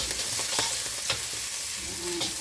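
Garlic sizzles steadily in a smoking-hot pan, a dense, continuous hiss broken by a few sharper stirring scrapes, close and fairly loud with no voices.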